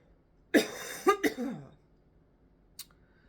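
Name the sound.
person coughing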